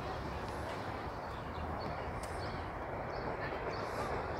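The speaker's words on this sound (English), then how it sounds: "A westbound subway train." A westbound Toronto subway train passes near the Keele wall at the West Bend as a steady, fairly faint rumble and rail roar in outdoor ambience, with birds chirping now and then.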